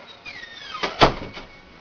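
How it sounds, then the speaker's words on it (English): A door is shut nearby with a single firm thud after a brief squeak and swish of movement, in a quiet basement room. "Shut the door."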